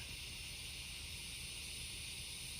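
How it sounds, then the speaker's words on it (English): A constant, shrill buzzing drone of cicadas fills the air, steady and loud after rain, with a dense low chorus of calling frogs beneath it. "Also wanted you guys to hear the cicadas and the frogs."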